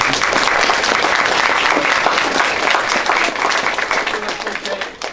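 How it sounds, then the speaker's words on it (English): Loud, sustained applause from a sizable parade crowd, dense clapping throughout that begins to thin out near the end. "give them a great big applause"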